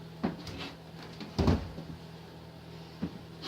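A drawer in a capacitor storage cabinet slides open in a workshop, giving a few soft, close clunks and scrapes against a steady low hum.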